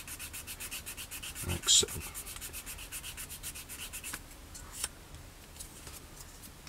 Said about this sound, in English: we're just going to work the plastic gently just to remove any trace of the ejector pin circle